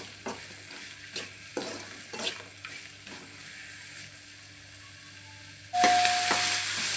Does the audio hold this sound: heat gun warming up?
no